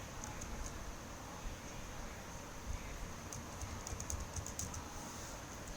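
Keys clicking on a computer keyboard while database records are entered, soft rapid taps in short irregular bursts, faint against a steady background hiss.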